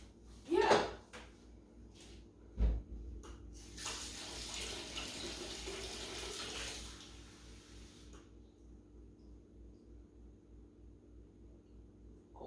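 Warm water runs from a kitchen tap for a few seconds as bread is being made, a soft steady hiss preceded by a few clunks and handling knocks, in a quiet kitchen.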